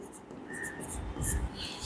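Chalk or a marker scratches across a board during a chemistry lesson, short squeaky strokes heard close under a teacher's continuous talk.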